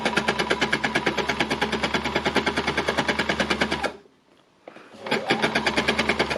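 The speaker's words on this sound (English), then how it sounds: "So I'm just going to get this piece embellished down" Embellishing machine needle-punching organza and lace onto fabric, a fast steady mechanical chatter that runs loud and close, stops for a moment near the end, then starts again.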